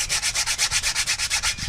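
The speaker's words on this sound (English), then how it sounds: "I use 200 sandpaper to sand right here." Fine 200-grit sandpaper scrubs rust off a Ford F150 front wheel hub in quick, even back-and-forth strokes, about a dozen close, loud rasps in a steady rhythm with no talking.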